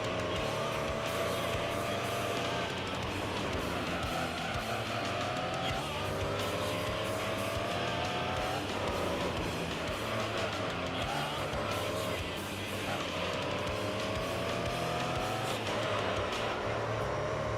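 Race cars roaring around a track in the video game Gran Turismo 3: A-Spec, with a loud continuous engine drone, rising gear-shift sweeps and occasional tire squeal throughout.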